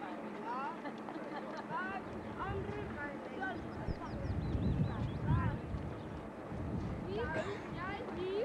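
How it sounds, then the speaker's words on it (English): Ducks quack on an Amsterdam canal in the Netherlands, with scattered calls at moderate distance over a steady murmur of people talking and the background noise of a canal boat. "Sound effects for the ducks."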